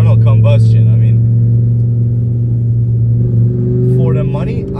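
A 2006 BMW M5 E60 with its V10 engine runs loud and steady, a deep continuous drone with strong harmonics, with brief bursts of talk over it at the start and end.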